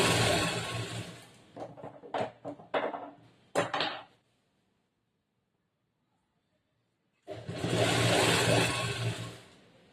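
A sewing machine stitches a churidar top in short bursts, goes silent for several seconds, then runs again in one loud, steady stretch.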